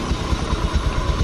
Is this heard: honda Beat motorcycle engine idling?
yes